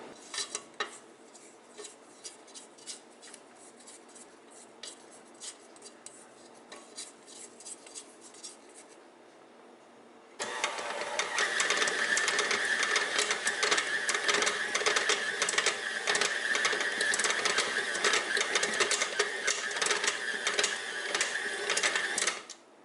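A stand mixer churns peppermint dog cookie dough, starting as a quieter rattling scrape, then jumping to a loud, dense, continuous whirring clatter that runs steadily to the end, with no voices.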